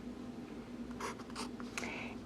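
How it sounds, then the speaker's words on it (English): A pencil writes on paper in short scratchy strokes, several quick bursts close to the microphone over a low steady hum, with no one speaking. "I'm going to write it over here"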